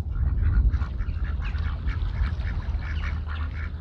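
Several ducks at a homestead pond quack repeatedly and close by, a busy overlapping chatter of calls over low background rumble.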